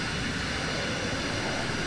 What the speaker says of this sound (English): you can then reverse the plane back into its original position.